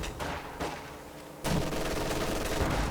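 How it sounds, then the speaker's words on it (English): Bundle grenade explosion in Company of Heroes 2 amid battle noise, a sudden loud blast midway followed by sustained rumbling gunfire and combat din. "And a bundle grenade. That's gonna hurt, and it does."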